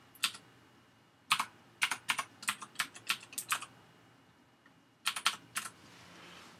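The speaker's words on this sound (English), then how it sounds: "it's asking me for the password, which I will very carefully type" A password is typed on a computer keyboard for an Office 365 sign-in: two short runs of quick, light keystrokes, close and fairly quiet, separated by a pause.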